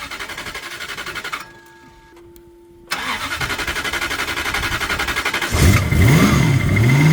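A Toyota 1UZ V8 fitted in a turbo Mazda RX7 with a new coil-on-plug setup cranks, goes quiet briefly, then fires up and settles into a loud, steady idle with a brief rev, close up.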